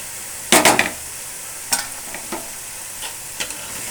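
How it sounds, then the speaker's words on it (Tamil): Tomatoes hitting hot oil in a biryani pot, a loud crackling burst followed by several smaller sizzles and stirring scrapes, with a soft frying hiss underneath and no talking. "இப்போ நம்ம வந்து தக்காளி சேர்த்துக்கலாம்."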